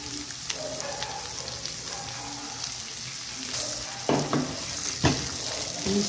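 A large onion sizzles and fries in a pan for a pumpkin stir-fry, giving a steady crackling hiss broken by a few sharp scraping stirs near the end.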